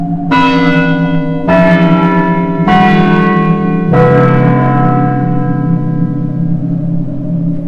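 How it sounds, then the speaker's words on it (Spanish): Loud church bells ring out several times at a slow, even pace. Each strike rings on in a long, resonant hum that overlaps the next. "las campanas de la iglesia rezumbaban por todo el pueblo"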